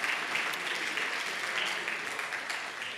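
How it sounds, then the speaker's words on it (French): Audience applause at a round-table conference session, a dense, steady clapping that fills the full three seconds at an even level without fading. "on peut applaudir Frédéric, bien sûr, pour ses dessins."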